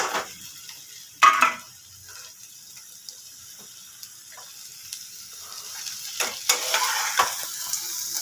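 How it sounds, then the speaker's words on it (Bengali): Potatoes going into a frying red Bengali fish curry (mach er laal jhol) spiced with Kashmiri chili powder make a sudden loud splash and hiss, then the sizzle and stirring settle into a softer crackle that swells again near the end. "এবার আলুগুলো দিয়ে দেবো"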